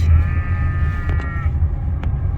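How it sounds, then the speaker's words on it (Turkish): A sheep bleats once with a wavering, drawn-out cry over a loud low rumble, like an engine or wind, with faint other bleats nearby, on farmland near Oslo, Norway. "koyunlar var."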